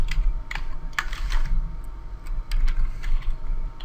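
Fingers typing on a computer keyboard while entering code, producing quick bursts of close, crisp key clicks in an uneven rhythm with brief pauses between groups, no voices.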